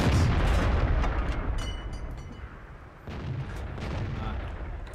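A heavy boom from the FV201 (A45) tank's cannon in World of Tanks opens the clip, rolling and decaying over a couple of seconds, and a second duller blast follows near the end amid steady engine rumble.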